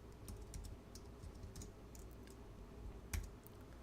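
Typing on a computer keyboard, soft quick key clicks in short bursts close to the mic, quiet, with no talk.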